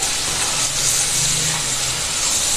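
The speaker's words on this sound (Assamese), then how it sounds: "এতিয়া মাংসখিনি ভালদৰে গেছটো বঢ়াই পেলাই ভাজি থাকিব লাগিব" Chicken pieces frying on a high gas flame for a lukel murgi dish with mati dail, giving a loud, steady hiss and sizzle that carries on unbroken throughout.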